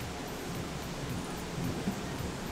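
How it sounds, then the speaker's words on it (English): Heavy rain pours steadily outdoors, a dense continuous hiss with low rumbling underneath, moderately loud and unbroken for the whole stretch with no voices. "it's raining really hard outside."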